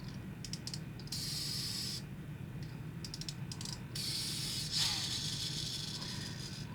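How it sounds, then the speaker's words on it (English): A Banpresto Tooned Nissan Skyline GTR R32 pullback spin car ratchets as it is wound, giving bursts of quick, light clicking gear noise up close over a steady low background hum. "If I wind it up, this thing kind of clicks upwards, but watch the gears"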